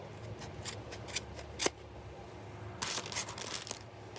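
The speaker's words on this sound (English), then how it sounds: "And then I'm going to cut the yarn on one end." Scissors snip through yarn for a homemade craft brush, giving several quiet, crisp cuts spread across the moment, with a louder burst of snipping near the end.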